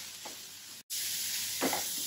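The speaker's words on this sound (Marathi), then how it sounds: "हिला एखादा मिनिट वगैरे आपण भाजून घ्यायचं आहे गाजरांना" Grated carrot roasts in a hot pan with a steady, close sizzling hiss, broken by a brief gap and a couple of soft stirring scrapes.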